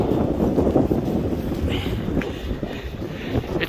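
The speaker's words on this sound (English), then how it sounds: "It's very windy, I do apologise." Heavy gusts of wind on the Wirral buffet the microphone with low rumbling thumps, loud and close, while faint water sounds sit underneath.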